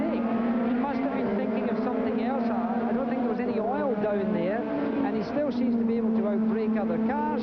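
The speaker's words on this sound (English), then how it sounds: "Looking at these two cars come through that last S section on the track" Formula One race cars at the 1987 French Grand Prix threading an S-bend, engines howling and shifting pitch as they pass, sustained and fairly loud beneath a commentator talking throughout.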